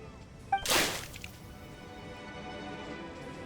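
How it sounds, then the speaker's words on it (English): A splash of water thrown onto a character in a video game, heard as a single short whooshing burst that fades quickly into quiet background music. "Mein Fräulein means to splash him with water."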